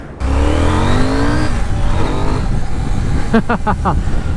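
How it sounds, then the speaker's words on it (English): A KTM Duke 790 motorcycle on a test ride revs up with a rising engine whine that then settles into a steady drone, near and loud, with a brief bit of talk near the end. "So I will take a test ride now and see how they have adjusted the chain and all that stuff."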